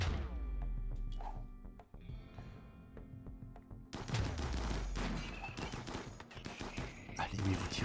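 Bursts of gunfire in the colony game RimWorld crackle in rapid volleys, sparse single shots at first then a dense fusillade, with someone talking over the shooting.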